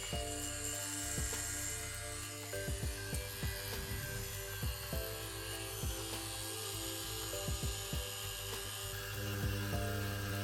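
A Stigma Rotary Force XL rotary tattoo machine, battery-powered and set to 7, hums steadily with a high mechanical buzz and faint clicks, close by and quiet, with no talking.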